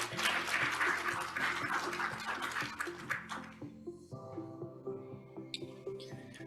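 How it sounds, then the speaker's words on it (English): Audience applause for a speaker at a health policy conference session, a burst of clapping that fades after a few seconds into quiet background tones. "Please let's give a big round of applause for Ziwen Miao."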